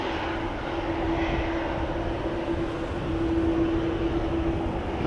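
A KLM Boeing 777 at Amsterdam Schiphol Airport produces a continuous broad engine roar with a faint steady whine, holding an even loudness throughout with no voices.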